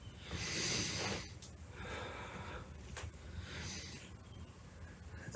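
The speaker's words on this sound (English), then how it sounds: "Deep breath in, deep breath out." Slow, deep breathing during a yoga inversion, a long inhale and exhale drawn out close to the mic, soft and airy with no talk.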